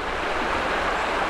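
Steady, broadband rush of creek water flowing beside a forest road in a natural area, continuous and fairly loud with no voices.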